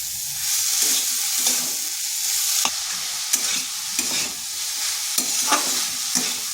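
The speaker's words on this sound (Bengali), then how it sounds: "এই মশলার সাথে একটু কষিয়ে নিচ্ছি।" Sliced banana stem (thor) sautés with spices in a hot pan, a loud steady sizzle punctuated by rhythmic spatula scrapes and light clinks against the metal as it is stirred.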